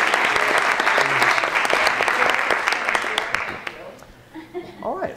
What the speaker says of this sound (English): if everyone could give a big applause to Anne and all the work that she has done